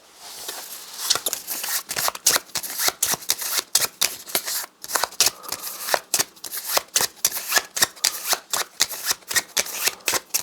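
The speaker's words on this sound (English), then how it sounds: "Okay, so I'm shuffling our initiative cards together" Initiative cards for a board game being shuffled by hand, a rapid run of crisp riffling snaps and flutters repeating steadily, close up and clear, with no talk.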